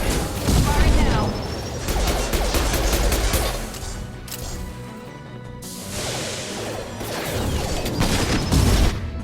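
Weapons fire in Mass Effect 2 comes as dense bursts of rapid gunshots and crashing impacts, swelling loud at the start and again near the end with a brief lull between.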